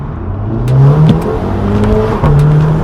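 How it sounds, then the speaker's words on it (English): Audi TT engine fitted with a performance intake revs loudly close by, rising and falling with a throaty whir across several throttle blips. "Get some engine noise out of it."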